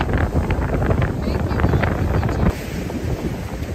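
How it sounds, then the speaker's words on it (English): Strong wind on an Alaska beach roaring and buffeting the microphone, a constant heavy rush with rumbling gusts, likely with surf behind it. "Real windy."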